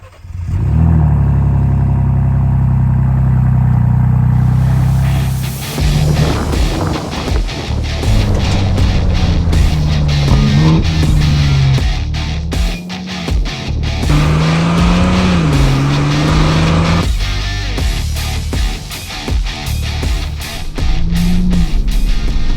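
A Ford Bronco Raptor drives at speed through the desert, its engine roaring loudly and continuously with repeated rises and dips in pitch as it accelerates and shifts, tire and wind noise mixed in, no talking.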